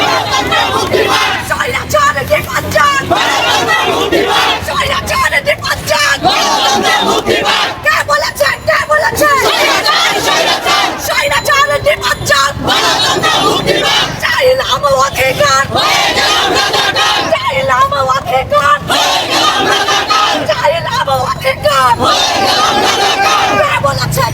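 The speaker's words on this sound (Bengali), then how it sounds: "অভিভাবকরা কিন্তু ছাত্রদের পক্ষে সমর্থন জানিয়ে তারা মিছিল করছে রাজপথে" Parents marching along a city street in support of protesting students, chanting slogans together: a loud, continuous crowd roar with rhythmic shouted calls and yells rising throughout, close and dense with no pauses.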